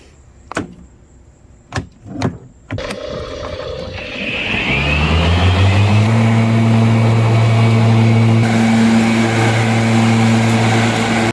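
A Ryobi 80V electric 54-inch zero-turn mower starts with a few sharp clicks, then spins up into a steady loud whine and hum that holds constant while cutting grass, with no talking.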